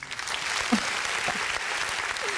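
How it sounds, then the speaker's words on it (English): An audience claps in a dense, steady burst of applause that fills the whole short stretch, close and even in loudness, with no talking over it. "Needed those claps."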